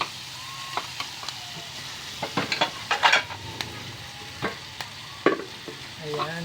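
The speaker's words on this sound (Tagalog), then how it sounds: "mix natin yung ating sili sa mix lang natin siya guys" Chili is stirred into a pan of frying canned mega sardines, steady sizzling with scattered scraping and clinking of a utensil against the pan, no voices.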